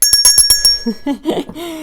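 A bright bell notification sound effect chimes several times in quick succession, ringing metallic and close, then gives way to a short burst of speech.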